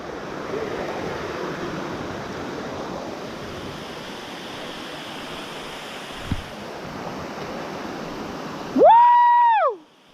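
Rushing water of a jungle waterfall, Cascada La Gritona, a broad steady roar with a brief knock partway through, then a loud whistled or whooping tone rises over it near the end.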